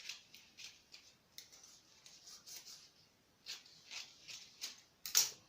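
Scissors cutting fabric corset bustier pattern pieces, a series of close, quiet snips and rustles in irregular rhythm, ending with a slightly louder cut.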